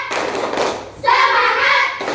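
Schoolchildren in a classroom doing the rhythmic 'tepuk semangat' spirit clap: a short burst of clapping, then a group of young voices chanting in unison, loud and close.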